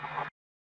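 A weird scraping percussion sample from a dark, bouncy synth trap beat plays once alone, a short dense rasp of about a third of a second that cuts off abruptly into silence.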